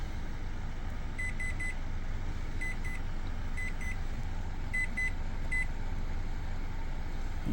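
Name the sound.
microwave oven running, installed in a Kia Soul car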